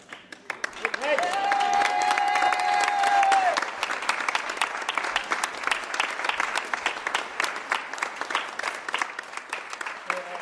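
A crowd applauds steadily for the full stretch, a dense patter of many hands clapping, with a sustained whistle ringing out near the start.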